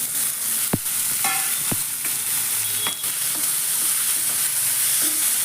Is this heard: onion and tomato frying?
yes